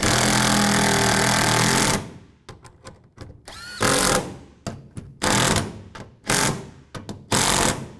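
A power tool runs loudly and steadily, then cuts into a series of short bursts with pauses as it snugs down the three bolts holding a tailgate on a 2007-2013 Chevrolet Silverado 1500.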